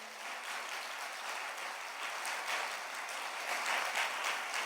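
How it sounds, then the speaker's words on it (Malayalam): A church congregation applauds together, a dense, even wash of many hands clapping that sounds somewhat distant and continues steadily without a break. "ഒന്ന് കൈ ഉയർത്തി കൈയടിച്ചേ."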